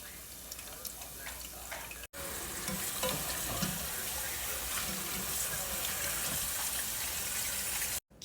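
Battered chili biscuit bows frying in hot oil, a loud steady sizzle and crackle close up, briefly cut off twice by short breaks in the sound.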